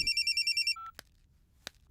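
A telephone rings with a rapid, high electronic warble that repeats in quick pulses, then cuts off and is followed by a couple of sharp clicks as it is picked up, with no voices.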